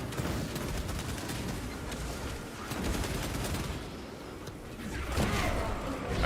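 Sustained automatic gunfire in the Warhammer video game Space Marine 2, a dense continuous fusillade of bursts at close range running throughout, with game sounds layered in.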